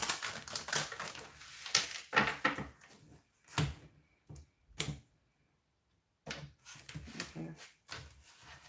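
Tarot cards are shuffled in quick papery bursts, riffling and tapping with short pauses between, close and moderately loud.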